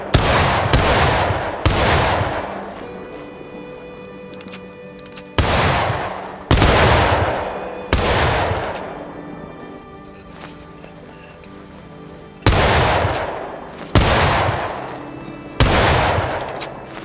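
Rifle shots ring out in the War of Rights video game, about eight loud, sharp cracks fired at irregular intervals, each trailing off in a long echoing decay against quiet background noise.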